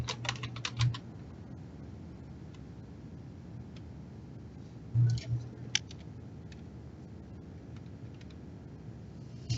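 Scattered keystrokes on a computer keyboard as card details are typed into an online form, quiet and intermittent with short bursts of clicks and pauses between them, no talking.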